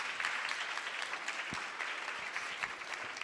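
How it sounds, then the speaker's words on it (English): A warm round of audience applause for fitness trainer Kayla Itsines in an Apple Store, steady crowd clapping with a few sharper individual claps standing out, filling the room evenly. "If you could help me give a warm round of applause for Kayla."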